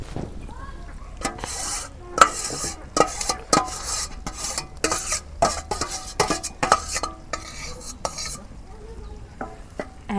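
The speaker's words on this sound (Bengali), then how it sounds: "এখন আবার নাড়াচাড়া করে মিলে দিই" Chicken biryani is turned over in a pot with repeated sharp metal spoon scrapes and clanks against the vessel, irregular and close, over a faint low sizzle, with no speech.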